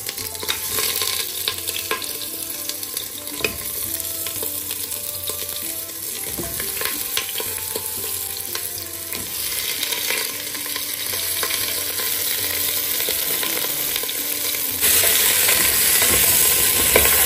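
Peas fry in hot oil in a pan, giving a steady crackling sizzle with occasional scraping and clinks as they are stirred, continuous and close, with no talking.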